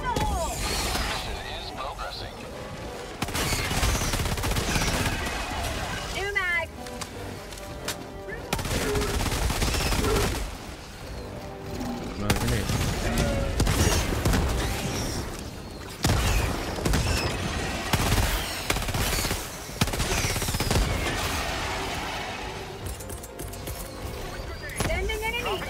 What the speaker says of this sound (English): I shot off all of your legs on one side